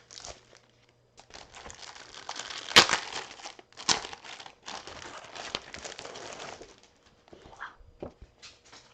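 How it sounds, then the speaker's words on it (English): Stampin' Up paper pack being handled close up, with bursts of crinkling and rustling, a few sharp crisp snaps, and short quiet pauses between movements. "So we have this paper pack right here."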